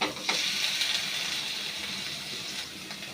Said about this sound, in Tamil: அடுத்தது கட் பண்ண தக்காளி போடணும்.